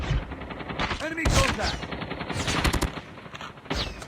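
Machine gun fire from the Call of Duty video game rattles in rapid bursts and fusillades, loud and close, mixed with other game sound effects.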